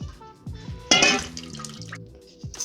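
A small splash of water poured into a bowl holding a cracked egg for egg wash gives a brief bright splash after a few soft drips and clinks in a quiet kitchen.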